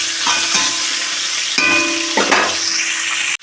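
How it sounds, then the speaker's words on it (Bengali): Eggplant frying in hot oil for shukto, a loud steady sizzle close by with a few scraping stirs of the spatula breaking through. "বেগুনটা ভাজা হতে হবে"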